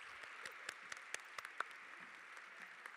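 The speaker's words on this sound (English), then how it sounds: "We'd like to give one final round of applause and congratulations to all of these" A school awards assembly audience applauds for outstanding students, a soft, distant spread of clapping with a few sharper nearby claps standing out, steady throughout and no one speaking over it.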